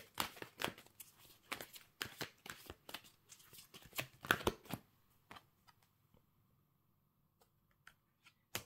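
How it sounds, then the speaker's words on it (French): Tarot cards are shuffled by hand in quick, soft riffling bursts, close and fairly quiet, thinning out toward the end into a few light taps. "Quel conseil les cartes peuvent vous donner?"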